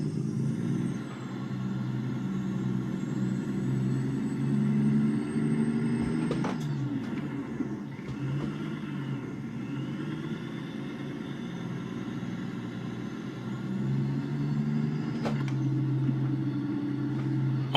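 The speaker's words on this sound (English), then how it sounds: "hit the shifter, didn't hit the clutch, just hit the range splitter, and then actually just revved it up to 1500" A heavy truck engine idles and rumbles steadily, climbing in pitch as it revs to about 1500 rpm after a range splitter shift without the clutch, with a couple of sharp clunks from the cab; no talking.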